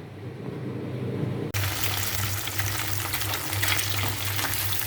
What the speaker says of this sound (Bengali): মাছগুলো সুন্দর করে ভাজতেছি।